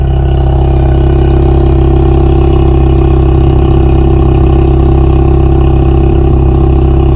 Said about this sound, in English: You guys can hear that exhaust noise, sounds really good.